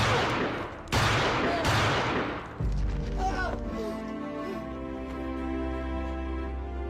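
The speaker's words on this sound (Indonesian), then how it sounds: "terdengar suara tembakan" Two sharp, loud bangs ring out in quick succession over a tense backdrop, followed by a low rumble and sustained eerie tones.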